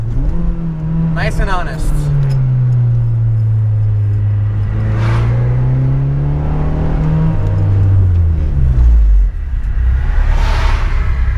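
Honda Civic Si, ninth generation, with a K-Series engine revving up and falling back, loud and close, a rising and sweeping engine tone under brief talk.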